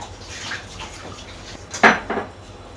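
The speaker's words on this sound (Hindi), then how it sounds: "ये आधा कप पानी और डाल लिया।" Half a cup of water poured into a pot for rice dough, with light clinks of a metal vessel and a brief splashy pour near the end, close by and alone.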